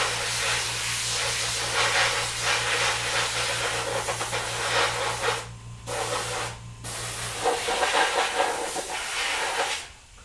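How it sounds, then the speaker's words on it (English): Airbrush spraying onto the hair of a werewolf mask, a steady close hiss over a low constant hum, broken by two short pauses near the middle and ending with an uneven sputtering stretch. "I just want to airbrush it so it matches up."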